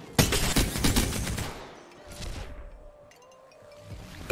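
Rapid gunfire from a sniper-focused shooter video game: a dense, loud burst of shots at the start, then a shorter second volley, fading into quieter game ambience.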